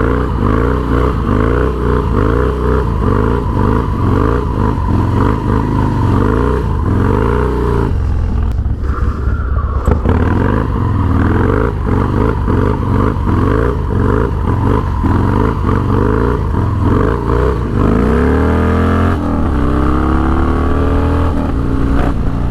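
A Harley-Davidson Dyna motorcycle engine running loud and close for a long stretch, with a lumpy, uneven idle chop and repeated rising revs, a brief dip partway through and another throttle blip near the end.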